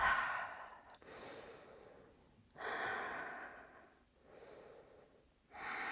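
Strong, deliberate breaths during a strength-focused yoga workout, several forceful exhales and inhales in a steady rhythm, close and loud with no talking.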